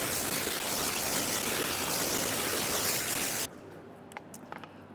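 A pressure-washer stream of water rinses foam off a car during a wash, a loud, even hiss that cuts off abruptly near the end and leaves faint drips and small knocks.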